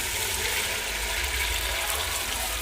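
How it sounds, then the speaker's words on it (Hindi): Water pours steadily into a khichuri pot over fried garam masala, a continuous close rushing splash that lasts throughout with no speech. "अब इसमें डाल देते हैं पानी।"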